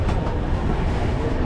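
Busy New Delhi railway station at the end of an Agra to Delhi express run: a dense, steady rumble of rail and station noise with faint clatter, fairly loud and continuous throughout.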